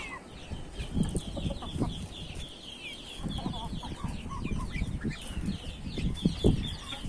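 Chickens cluck repeatedly in a backyard coop holding young chicks and ducklings, with irregular near clucks and bird calls over a steady farmyard background and no talk.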